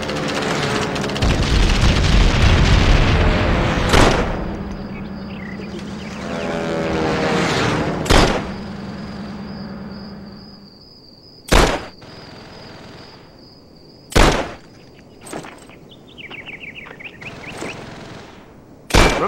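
Rifle shots fired at helmets on a scarecrow in the World War II shooter Call of Duty: World at War, heard as several sharp, loud cracks spaced seconds apart over a rumbling ambient battlefield bed with droning aircraft.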